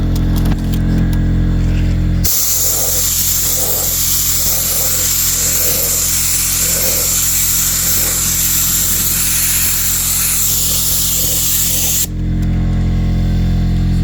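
A spray can lays down a first coat on a restored car headlight, a steady close hiss running about ten seconds and stopping abruptly, with brief handling clicks before and after.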